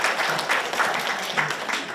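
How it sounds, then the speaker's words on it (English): An audience at an international Buddhist conference gives a round of applause for a presenter, a steady, moderately loud patter of many hands clapping throughout, with no voices over it. "please give her a round of applause for all of these efforts."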